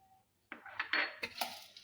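Mango pickle spice masala is stirred in a bowl with a spoon, a few clinks and scraping knocks of metal against the dish after a quiet start, close and fairly soft.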